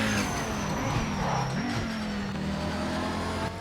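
A race car in the sim racing game Project Motor Racing drives under steady engine drone, the pitch shifting as it lifts and gets back on the throttle through a corner, continuous and fairly close with no talk.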